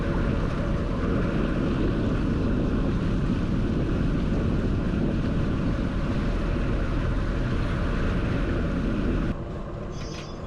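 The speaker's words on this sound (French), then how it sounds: "On a eu des rafales jusqu'à 20 nœuds, il me semble, maximum." Loud, continuous wind roars and buffets against the microphone aboard a sailboat in gusts up to 20 knots, with a rushing water-and-hull drone underneath, dropping off abruptly near the end.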